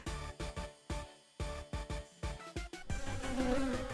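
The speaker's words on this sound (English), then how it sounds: "The bug freely buzzed its way around the room." A wasp buzzes around a classroom in the visual novel Kinkoi: Golden Loveriche, first in short loud choppy bursts and then in a sustained close drone.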